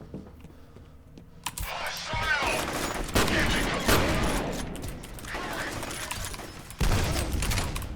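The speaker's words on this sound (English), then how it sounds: "The repeating cannon also has knockback." Repeating cannon fire in the video game F.E.A.R., rapid loud bursts of heavy shots with sharp cracks and knockback impacts, continuing in dense volleys after a quieter opening.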